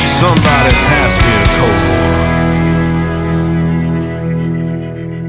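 Loud country music plays throughout, a dense band mix with sustained tones and strummed and percussive hits, the attack heaviest early and easing into a held ringing wash toward the end.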